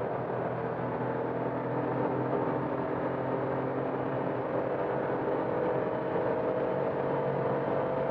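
Toyota Aygo 1.0 VVT-i engine straining at highway speed, around 130 km/h in third gear near 5500 rpm, a loud steady drone and whir from inside the cabin with constant road noise and no talking.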